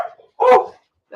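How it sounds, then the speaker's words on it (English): A pet dog at home gives a single sharp bark in the middle of an otherwise quiet moment, fairly close and clear, with faint traces of other sound at the edges. "that's my dog"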